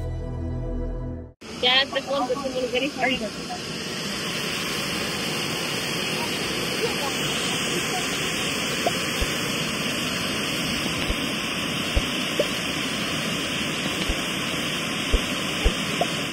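A waterfall in the Kallar forest between Anakulam and Munnar roars steadily and loudly, a constant rushing wash of water, with brief voices near the start.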